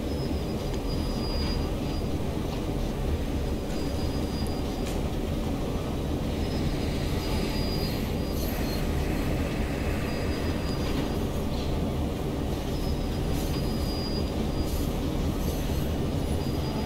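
A train from the Clinchfield Railroad, caboose at the rear, rolls on rails in the Train Sim World game, giving a loud, steady, continuous rumble of wheels throughout with no pauses or speech.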